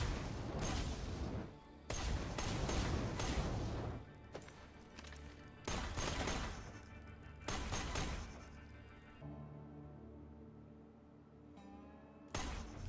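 Hellfire SMG fired at a test dummy in Borderlands 2, a few loud bursts of rapid gunfire with pauses between them, up close and heard alone with no talk over it.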